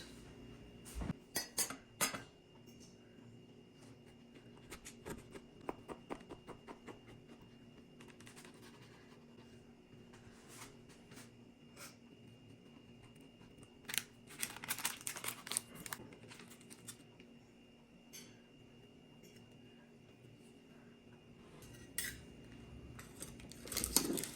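A knife and cake server work through a strawberry cream sponge cake, giving soft scrapes, crinkles and light metallic clinks against a plate in quiet bursts, with a few louder clusters near the start, middle and end.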